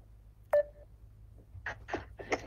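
A phone keypad being dialed gives a single short tone, then after a pause three quick dialing tones in a row, clear and close, with no voices.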